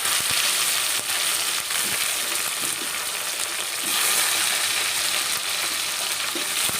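Tomatoes go into a hot pan for moong dal khichdi and sizzle hard, giving a dense, steady frying hiss with faint stirring clicks, close and fairly loud, with nobody talking.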